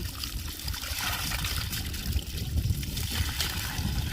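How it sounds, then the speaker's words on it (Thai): Water gushes steadily from a one-inch pipe fed by a small 12V DC 120W solar pump running off a 100W panel. It makes a continuous splashing trickle, close and alone. "เห็นไหมครับนี่น้ำเต็มท่อเลยครับ ท่อหนึ่งนิ้วนะครับผม"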